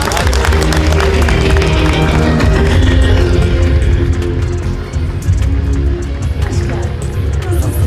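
A large crowd applauds loudly and steadily as the mayor, Görkem Duman, is invited on stage at a gathering for children with special needs and their mothers, the dense clapping mixed with voices and a few cheers throughout.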